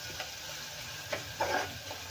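Green chilies and garlic fry in oil with a soft, continuous sizzle and crackle, a few brief stirring scrapes rising over it, quiet and close.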